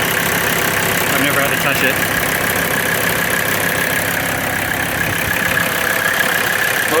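A 1994 Toyota 4Runner fitted with a Mercedes turbo diesel engine idling, a steady close rumble with a faint knocking clatter throughout, while someone talks over it.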